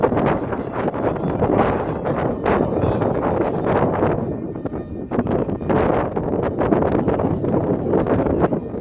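Strong gusty wind roars steadily across the microphone outdoors on a blustery day, a loud continuous buffeting rush with rising and falling surges and no voices.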